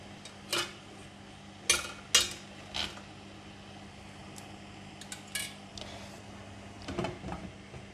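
A few sharp clinks and clatters of a fish dish knocking against a metal steamer pot, scattered over a quiet background with a low steady hum.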